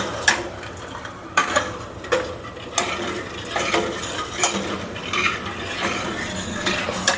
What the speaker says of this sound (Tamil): இப்போ நம்ம நல்லா கலந்து விடுவோம்.